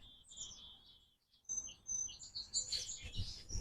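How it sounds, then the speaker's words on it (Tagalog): Several birds chirping and tweeting in short, bright bursts, some near and some farther off, in an otherwise quiet outdoor setting. "mas marinig mo yung mga huni ng ibon"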